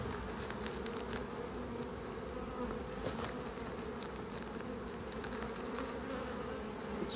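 Honeybees swarming around a hive drone in a steady, dense buzz, close and continuous, with individual bees zipping past now and then.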